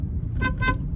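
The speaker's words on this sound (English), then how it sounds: "I'm gonna give him a little beep." Two short car horn toots sound in quick succession from a vehicle driving through a Boca Raton residential street, fairly near and clear over low road rumble.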